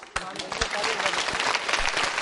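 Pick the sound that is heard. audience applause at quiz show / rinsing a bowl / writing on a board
audience applause at quiz show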